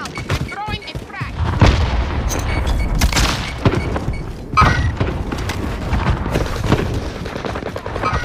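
Explosions and gunfire in the Call of Duty Warzone video game, heavy booms and rattling shots over a dense battle din, loud and continuous, with a frag grenade blast among them.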